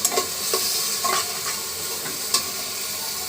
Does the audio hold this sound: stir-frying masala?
yes